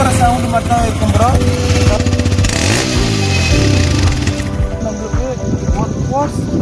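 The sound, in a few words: TVS Raider motorcycle engine revving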